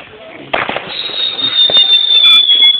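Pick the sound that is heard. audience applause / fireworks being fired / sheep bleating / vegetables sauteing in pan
fireworks being fired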